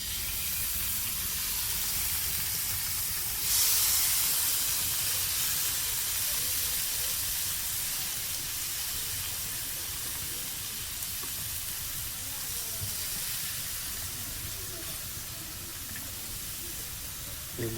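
Fish roasts on a clay wood-fired stove with a continuous broadband hiss and sizzle, steady and fairly close, with a brief louder flare early on.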